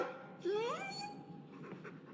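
A dog in the video game Dragon Age 2 pants and gives a short rising whine, a brief breathy sound at moderate volume followed by quieter breathing.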